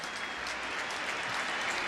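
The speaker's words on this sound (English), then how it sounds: "glad fans are clapping for him" Football fans at a 2003 NFL preseason game between the Cleveland Browns and Detroit Lions applaud an injured player, a steady, distant wash of stadium clapping with no speech over it.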